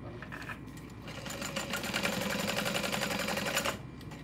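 A sewing machine top-stitches a folded seam on the lining panel of a messenger bag, running steadily and fairly loud with a rapid mechanical rhythm for most of the stretch before stopping near the end.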